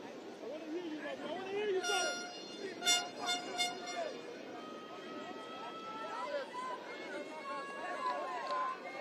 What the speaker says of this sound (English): Love to hear the horns.